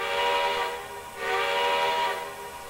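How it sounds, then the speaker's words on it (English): Steam locomotive whistle on a CN U1f 4-8-2 Mountain engine in the Trainz 2019 train simulator, two sustained close chime blasts with a brief gap between them. "got a nice whistle."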